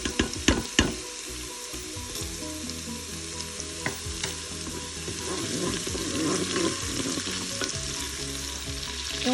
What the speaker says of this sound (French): Et on va y faire revenir nos crevettes ou nos gambas.